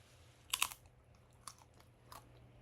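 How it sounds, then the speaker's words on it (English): Close, crisp crunches of a homemade salsa flax chip being bitten and chewed, a loud first bite followed by a few softer chews in a quiet room. "Did you hear that crunch?"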